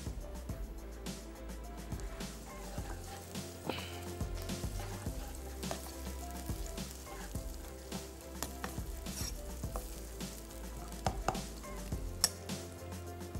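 A medium onion frying in a quarter cup of Golden Sun oil, a steady close sizzle with scattered crackles and light knocks from the pan or spoon throughout, no talking.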